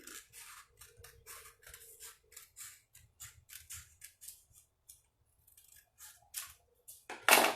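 Scissors snip through folded craft paper for a paper spinner, a steady run of short crisp cuts with small pauses, close and fairly quiet, ending in a louder rustle of paper being handled.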